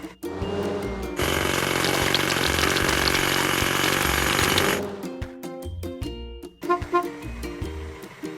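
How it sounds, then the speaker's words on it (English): Hydraulic hammer breaking rocks at a construction site, a loud continuous rapid hammering burst lasting several seconds that cuts off abruptly, followed by sparser clanks and knocks. "Hydraulic hammer."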